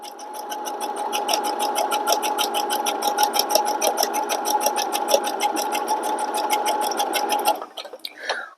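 Sewing machine running steadily while stitching a rice bag, a close, even mechanical whir with rapid regular needle clicks that stop abruptly near the end.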